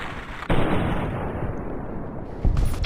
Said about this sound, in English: Sniper rifle's so fucking sick.